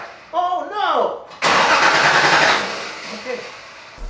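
A car engine cranking without catching, a starter whirring through a broad noisy burst of about a second before fading, with a voice imitating the sound just before it.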